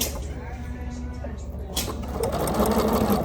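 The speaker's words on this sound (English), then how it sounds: "So let's put this in the machine and see what she does." A sewing machine stitching a quilt block starts up partway through, then runs as a close, steady mechanical whir with a rapid needle rhythm, preceded by faint handling noise.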